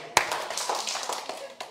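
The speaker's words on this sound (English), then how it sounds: "Two claps." Children in a class clap a few times, sharp scattered claps with one louder hit at the start, then lighter uneven claps mixed with faint voices.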